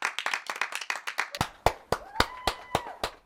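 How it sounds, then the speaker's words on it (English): Scattered hands clapping for carers and NHS hospital staff during the coronavirus lockdown, first a dense patter, then a handful of sharp, separate claps at a steady rhythm with a faint whistle-like tone rising behind them. "As we clapped for carers and the NHS"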